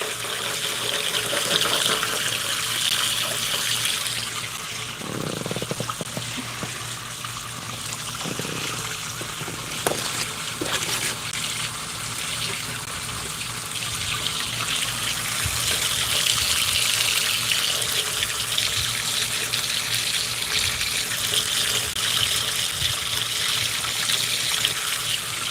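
Water from a hose runs steadily into a bucket to flush out silt, a continuous close gushing and splashing rush that holds level for the whole stretch with a few small clunks and no talk.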